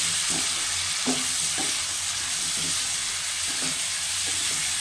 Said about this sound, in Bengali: সব একসঙ্গে দিয়ে ভাজা ভাজা করবো।